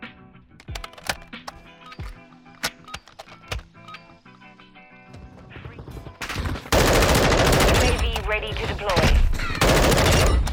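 M4 rifle gunfire in the video game MW2, starting as sharp, rapid single shots and short bursts and then turning into a loud, dense sustained volley of automatic fire, up close and not under talk.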